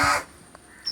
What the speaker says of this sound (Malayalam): അപ്പോൾ ഒരു കാക്ക ഇരുന്ന് കരയുന്നു.